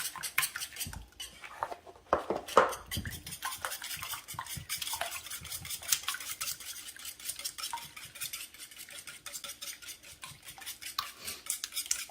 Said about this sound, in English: Just whisk these up.